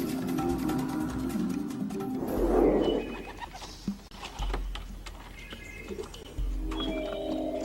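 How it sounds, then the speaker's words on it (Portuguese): Pigeons are released from a transport box in an open field with no trees, giving a burst of wing flutter and scattered soft coos and chirps against quiet outdoor ambience. "Eu abro a caixa e eu solto os pombos."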